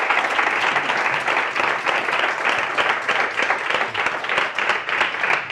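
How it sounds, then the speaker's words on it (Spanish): An audience at a theatre event applauds with dense, steady clapping that stays loud and continuous throughout, with no voices on top. "Yo os pediría un aplauso para todos"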